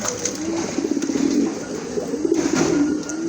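A pair of Danish pigeons in two colours coo continuously in low, rolling, throaty tones, close and clear, with faint chirps from other birds higher up and no talking.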